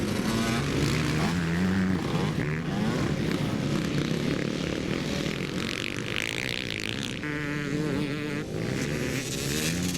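Yamaha YZ250 two-stroke motocross bikes racing at Forestmill, Clackmannan, in Scotland, with several engines buzzing and revving continuously at high pitch, loud and overlapping as the bikes pass near.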